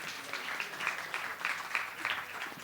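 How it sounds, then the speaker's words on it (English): Faint, distant applause from an audience for performers at the Indonesia Pavilion at COP 25, a soft steady patter of many hands lasting a couple of seconds. "Please round of applause once again to the performer of Indonesia Pavilion."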